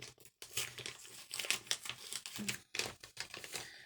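A sealed paper envelope of mail is torn and crinkled open by hand, with close, loud bursts of ripping and rustling in irregular spurts and brief pauses, no speech.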